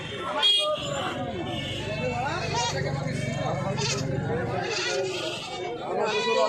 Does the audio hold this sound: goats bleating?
yes